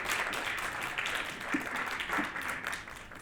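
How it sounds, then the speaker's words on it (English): Audience applause at a community event, a continuous wash of many hands clapping at moderate distance, fairly soft and steady throughout. "I invite folks to join me in a round of applause for Rep. Sangiolo, Rep. Eiderhoven, and Rep."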